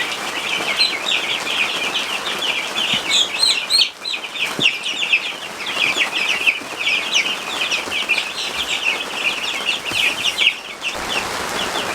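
Chickens in a brooder keep up a steady chorus of high, overlapping cheeps and clucks, with a few soft rustles and wing flaps mixed in. No one talks.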